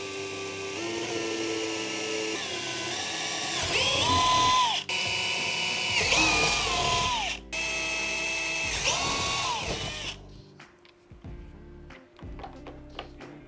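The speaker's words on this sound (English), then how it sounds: "I'm just going to drill the quarter inch holes again." Power drill whining and revving through several bursts while drilling quarter-inch holes, pitch rising as it bites into material, then cutting off to quieter clicks and handling noise.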